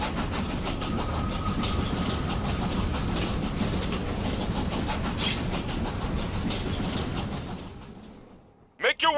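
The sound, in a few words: moving train clattering in video game Killer is Dead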